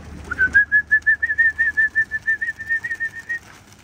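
A domestic pigeon gives a steady series of about fourteen evenly pulsed, whistle-like notes, close and clear, with nothing else around it.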